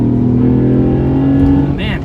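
A 2008 Honda Accord Coupe V6 with a manual gearbox pulls hard in third gear, a steady, loud engine drone from inside the cabin with someone talking over it.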